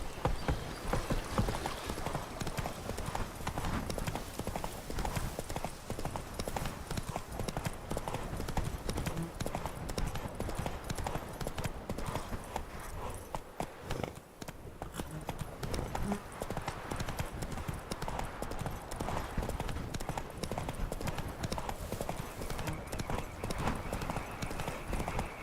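Hooves of the horse Roach clip-clop steadily through The Witcher 3: Blood and Wine, a continuous rhythmic patter with occasional snorts, running the whole stretch under game ambience.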